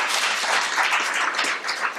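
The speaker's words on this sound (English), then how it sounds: "I think you deserve a round of applause." Clapping from a lecture audience at a public lecture on intergenerational and sustainable development: a brief burst of many hands together, fairly near and even, with no talking over it.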